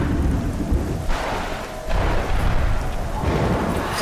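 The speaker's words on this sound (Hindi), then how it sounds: "अरे बारिश आ रही है, चलो अंदर बारिश आ गई।" Thunderstorm in a film scene, with heavy steady rain and low rumbling thunder booms sounding loud and broadband throughout, no voices over it.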